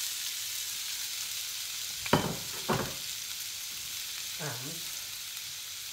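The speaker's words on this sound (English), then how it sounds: "into this pan, we're going to put the carrots, the onions and the celery" Carrots, onions and celery frying in oil with meat juices in a pan turned down low, a soft steady sizzle broken by two sharp scraping stirs and a later short sound, with a single word spoken.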